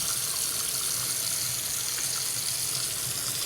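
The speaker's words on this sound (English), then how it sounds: "rinse them off." Tap water runs in a steady, bright hiss while shelled seafood is rinsed for hotpot, continuous and close with no talking.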